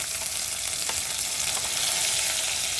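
Curry leaves, hing and chopped garlic cloves sizzling in hot oil, a steady, close, loud crackling hiss with a few sharper pops, no voices.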